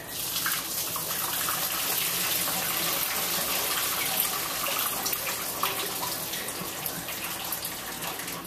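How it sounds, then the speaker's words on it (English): Steaming hot water poured from a pot into a kitchen sink, a steady continuous gush and splash that runs unbroken at moderate, even loudness with no talk over it. "So we're gonna go over here to the sink. We're gonna pour the steaming hot water out."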